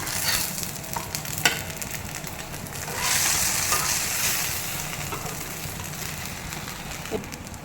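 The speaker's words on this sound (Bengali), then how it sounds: "এক পিঠ করে ভাজা হয়ে গেছে, আমি এক পিঠ উল্টে দিলাম।" Flipped sandwich pieces fry in a pan with a little oil, a steady close sizzle with occasional spatula taps and a swelling burst of hissing partway through, no talking.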